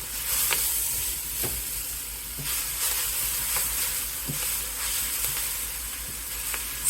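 Chopped kale (sukuma wiki) sizzles steadily in a hot pan with a constant hiss, broken by intermittent scraping and clinking taps of a utensil as the greens are stirred and flipped.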